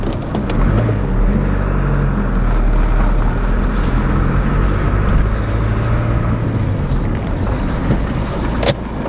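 A Renault Megane engine runs steadily through a gear and brake test, giving a continuous low, close rumble with constant loudness and no talk.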